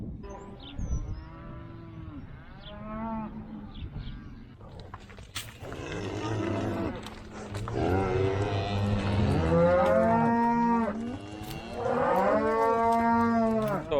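Cattle on a farm moo loudly and close by, several long drawn-out calls in succession, some overlapping, with quiet gaps in between.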